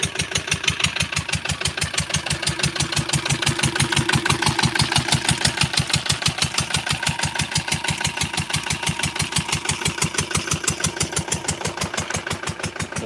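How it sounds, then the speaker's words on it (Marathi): A farm engine drives a crop sprayer pump for spraying a pomegranate orchard, chugging in a steady rapid knock that stays loud and close for the whole stretch, with no voices over it. "तुम्ही बघितलं की सध्या आता इंजिनवरती फवार सुरू आहे"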